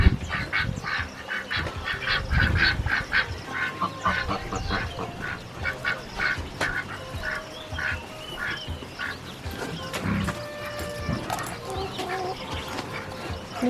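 Sick ducks and geese on a mixed farm give repeated quacks and honking calls, a steady chorus of several birds nearby with scattered louder cries throughout and no talk over them.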